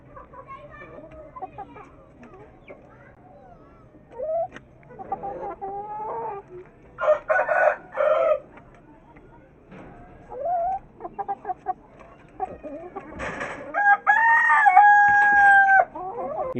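Hens squabbling and squawking in a rooftop coop, one egg-eating hen starting a fight; bursts of harsh clucking and squawks come in uneven clusters, loud and close, with a person talking between them.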